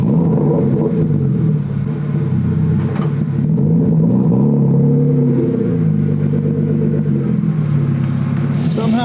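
A BMW E36 with a swapped-in S52 engine drives along with a steady, loud rumble that swells and eases with small rev changes, and faint talk underneath.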